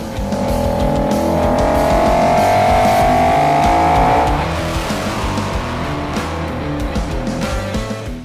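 Ford Shelby Mustang GT500 accelerating hard, a loud engine roar rising in pitch with a tire-squeal edge that then settles into a steady drone, heard close with no talking.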